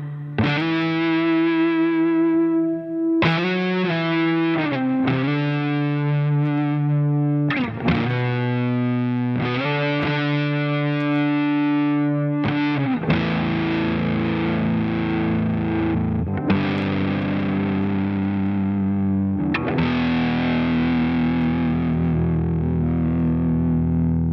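JOYO Hot Witch fuzz pedal driving an electric guitar, heavily distorted sustained chords and riffs ringing out continuously with thick saturated tone, no talking.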